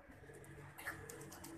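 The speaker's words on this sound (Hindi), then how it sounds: "अभी ये छांव में रखे हुए कबूतर हैं" Soft pigeon cooing from caged pigeons kept in shade, a low murmuring call that rises briefly near the middle, with faint background hum.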